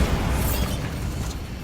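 A Bombarda spell blast goes off in the Hogwarts Legacy video game, a loud, close burst with crackling debris that rumbles on and slowly fades over a second or so.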